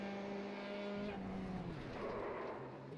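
A Formula 3 race car in the iRacing sim slides sideways through a corner at Suzuka, engine tone droning steadily with a shifting pitch and a tire-scrub texture throughout, close and continuous.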